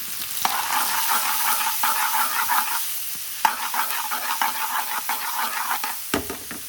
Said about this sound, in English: Adding 2 large onions diced up.